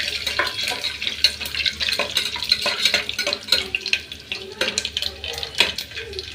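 Onions frying in a pan while mint rice is cooked in a home kitchen, with busy sizzling crackle and repeated clatters of stirring and utensil taps throughout, close and fairly loud with no talk.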